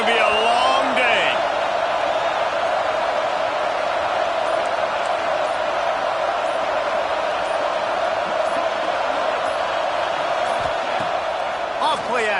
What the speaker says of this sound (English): This crowd, full throat, splitting the eardrums and letting them know it's going to be a long day